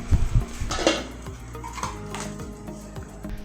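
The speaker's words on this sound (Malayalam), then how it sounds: "ഇനി നമുക്ക് പൊടി വാട്ടിയെടുക്കാം" A metal spoon scraping and knocking in a pot as rice flour is stirred into salted boiling water, irregular clanks and scrapes, loudest at the start, close up with no speech.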